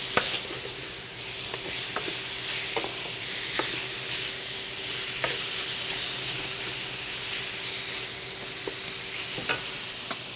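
Sausage links sizzling in a pan for seafood paella, a steady loud fry with scattered scraping stirs and clicks throughout, no talk.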